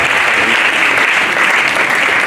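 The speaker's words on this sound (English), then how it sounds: "please can you give applause to the latest inaugural lecturer" Loud, dense applause fills a hall for a university inaugural lecturer, continuous and close with no gaps.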